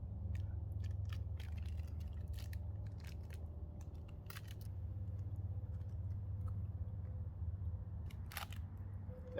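Soft, repeated crunching bites into a Nature Valley sweet and salty almond nut bar, eaten outdoors at a camp beside a low steady background hum.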